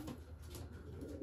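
A pigeon gives a soft, low, rolling coo, faint and brief against quiet background noise.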